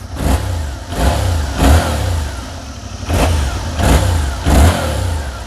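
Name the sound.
Yamaha MT-07 motorcycle engine revving to about 5000 rpm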